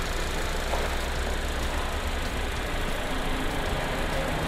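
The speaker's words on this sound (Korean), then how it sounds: "엔진 소리 일정합니다" A Hyundai Grandeur IG 2.4 engine idles steadily at close range, a constant low rumble with no talking.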